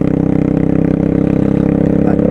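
A 125cc motorcycle engine runs while riding on the street, a loud close steady drone with a fast regular pulse, holding an even pitch with no talk.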